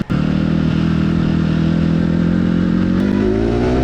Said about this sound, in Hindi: बाइक का साउंड आज इतना अच्छा आ रहा है